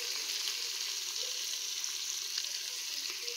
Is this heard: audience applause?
no